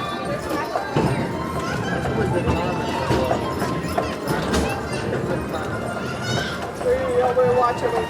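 Horses clop and whinny amid a busy outdoor scene, hoofbeats and an occasional neigh mixed into steady crowd chatter and nearby voices talking throughout.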